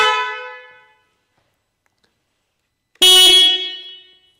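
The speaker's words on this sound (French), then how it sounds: "Donc ça, c'était le klaxon de la 1250 RT modèle 2020" Two bright electric honks from the horn of a 2020 BMW R 1250 RT motorcycle, close and loud: a short beep that trails off, a silent gap, then a second blast, each tonal and slightly harsh, with no talking.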